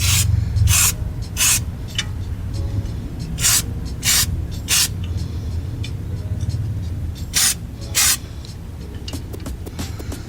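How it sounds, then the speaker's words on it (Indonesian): Clear lacquer sprays from an aerosol can onto a metal fishing jig in short hissing bursts, six or so evenly spaced sprays of about a quarter second each over a steady low background rumble, close and fairly loud. "Nah, kita semprotkan tipis-tipis saja."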